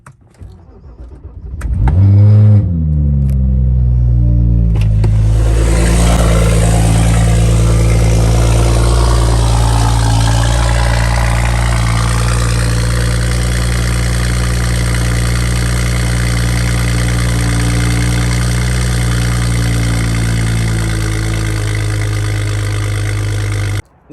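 A BMW 335i fitted with a VRSF race exhaust cranks over and fires up with a brief rev, then settles into a steady, deep, loud idle that drones on unchanged for the rest of the clip.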